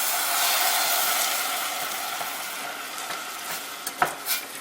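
Rice coated in fat frying steadily in a pan, a loud broadband sizzle that eases a little over time, with a few sharp scraping stirs near the end.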